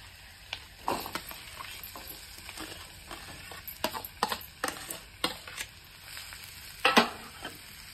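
Boiled potato is stirred into a turmeric mixture, giving a series of soft, irregular scraping and squishing strokes of a spoon against the bowl, close and fairly quiet, with no talking.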